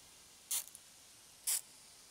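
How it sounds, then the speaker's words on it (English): Two short, crisp hissing bursts from a spray bottle wetting a slipper orchid for repotting, spaced about a second apart, close by in a quiet room. "give this a good spraying"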